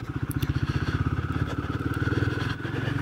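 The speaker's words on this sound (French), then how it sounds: "On lui donne un peu de tour à ce monocylindre au démarrage" A Royal Enfield Guerilla 450 single-cylinder engine thumps in a rapid, even pulse close by, revving slightly with a brief dip near the end.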